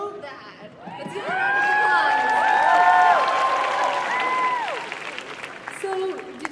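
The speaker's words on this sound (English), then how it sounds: "round of applause" Crowd applause and cheering after a music performance at the Sanskriti 2022 event swells and stays strong under excited voices and whoops, then fades toward the end.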